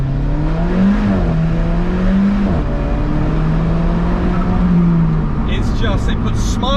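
Alfa Romeo 4C engine pulling hard, a loud droning note that rises and falls as it revs, close and continuous, with brief higher-pitched bursts near the end and a voice talking over it.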